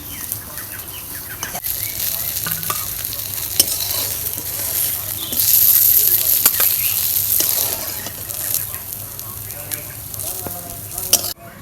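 Tilapia fish frying in oil in a pan, a steady loud sizzle with occasional stirring clicks and scrapes, swelling briefly louder midway, heard close up with no talking.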